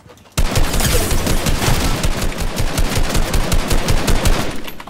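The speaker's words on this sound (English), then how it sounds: "No, he's shooting at me." Rapid automatic gunfire from a video game rattles loudly and continuously at close range, a dense stream of shots that starts abruptly and holds for several seconds before easing off.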